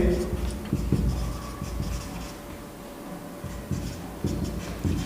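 Writing on a board during a maths lesson on sets, with chalky scratches and taps in short bursts under a teacher's talking, close and fairly loud.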